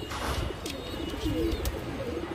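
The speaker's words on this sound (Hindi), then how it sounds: "कबूतर आराम से खा पी रहे हैं।" Pigeons coo softly in a loft, with low, rolling calls close by over faint background noise and a few short higher chirps.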